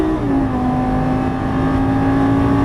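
A Lamborghini Gallardo engine pulls hard after an upshift, a loud, steady, close high-revving drone with a rising tone throughout and no voices.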